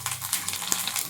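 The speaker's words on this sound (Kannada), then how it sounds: "ಎಣ್ಣೆ ಕಾದಿದೆ. ಇವಾಗ ಕರಿಬೇವು ಹಾಕ್ತಾ ಇದ್ದೀನಿ." Curry leaves hit hot oil for a spicy chicken liver fry, setting off a close, steady crackling sizzle with scattered pops and no voices.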